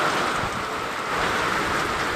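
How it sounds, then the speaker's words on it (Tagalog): Heavy rain pours down with gusting wind somewhere in Cavite, a dense steady roar that never lets up and stays loud and close for the whole stretch, with no voices. "atin pong nasaksihan ang pagbuhos ng malakas na ulan at hangin sa mga oras na ito"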